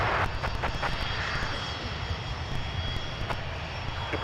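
Delta airliner rolling for takeoff on runway 12 right at Minneapolis–Saint Paul airport, a steady loud engine roar with broadband rumble that holds evenly throughout, with no talk.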